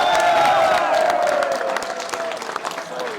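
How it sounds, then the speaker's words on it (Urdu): Loud crowd applause and cheering at a political youth convention rally, a dense wash of clapping that rings out strongly at first and slowly tapers, with shouts and a sustained tone mixed into the roar. "اپنی تالی کی گونج"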